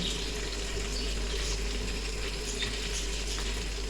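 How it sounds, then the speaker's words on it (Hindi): Half a cup of oil is poured into masala frying in a pan for a chicken feet curry. A steady close sizzle and hiss continue throughout, with a watery frying crackle. "अब इस टाइम पे हम इसमें डाल देंगे आधा कप ऑयल"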